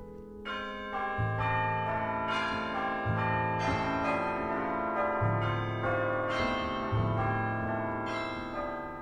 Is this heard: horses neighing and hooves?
no